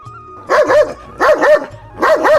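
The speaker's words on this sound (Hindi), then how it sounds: "बैठा हुआ कुत्ता घुराते हुए भोंदू को देखता है और भौंकने लगता है।" A dog barks three times in short, loud, close double bursts, separated by brief pauses, with faint background sound between the barks.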